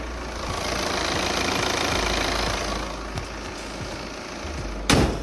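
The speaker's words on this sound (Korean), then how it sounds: "금 엔진 사운드 듣기 위해서 본네트까지 개방해봤고요" Steady low idling of a Volvo XC90 D5 diesel engine with the hood open, a soft rhythmic knock heard up close, ending in a brief sharp clatter.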